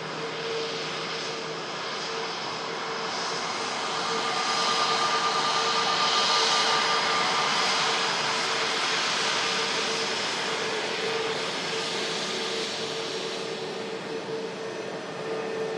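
An Airbus A350 taxis across an airport arrival runway, giving a steady, loud jet engine roar that swells slightly midway and holds throughout, with no talk.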